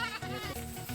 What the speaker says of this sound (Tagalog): Ay, kambing.